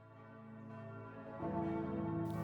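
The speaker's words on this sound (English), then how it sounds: "Church bells." Church bells at the Vatican in Rome ring out in a layered, resonant peal, the tones overlapping and sustaining, with a second bell joining partway through.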